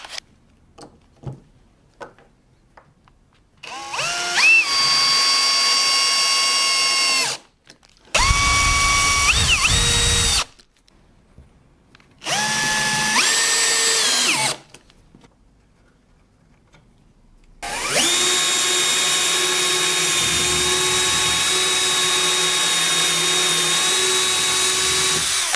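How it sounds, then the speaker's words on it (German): A power drill whines through bursts into an aluminium rail and drives metal screws, with four long runs of steady high-pitched motor drone, rising as it spins up, broken by clicks, ratcheting and short handling noises, close and loud with no talk. "auf jeden Fall schrauben wir das jetzt fest, bohren die Dinger, schrauben alles zusammen"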